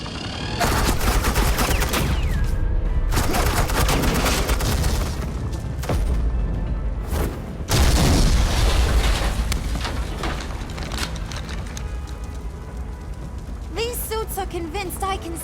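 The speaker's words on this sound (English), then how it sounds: "I said suppressing fire!" Sustained suppressing gunfire and explosions from the Batman: The Enemy Within video game, with dense loud bursts and booms for most of the stretch, a brief lull, then renewed heavy firing, with voices talking over parts of it.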